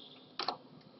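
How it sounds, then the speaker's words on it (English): A computer keyboard gives one or two quick, soft key clicks close by in a quiet room, then near silence. "just type in the search bar here, type run"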